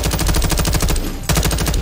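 Rapid automatic gunfire in Call of Duty Warzone 2.0 during a desert firefight, loud and close, with dense rhythmic bursts, a brief lull, then sustained shooting again.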